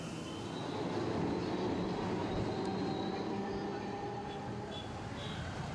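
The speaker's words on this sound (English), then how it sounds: "Kolkata's pride today is the wonderful metro rail system" Kolkata Metro train running along its rail line, a steady loud rumble of wheels and carriage noise with faint high wheel squeal, continuous throughout with no talking.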